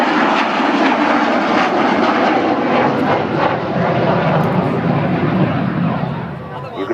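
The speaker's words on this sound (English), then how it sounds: "the Avro Vulcan. Here it is, ladies and gentlemen" The Avro Vulcan bomber XH558's jet engines roar loudly and steadily at an air show, a continuous deep rumble that fades slightly at the end.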